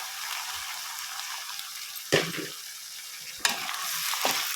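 Broad beans and curry leaves sizzle in hot oil, a steady hiss punctuated by two or three sharp bursts of louder crackling as ingredients are stirred or added, close and fairly quiet overall.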